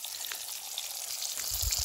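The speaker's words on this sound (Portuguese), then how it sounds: "um lambari fritando ali" Small lambari fish fry in a pan at a forest campsite, giving a steady, soft hiss of sizzling oil with a few low bumps near the end.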